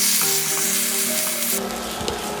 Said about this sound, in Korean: 이제 어묵을 볶겠습니다.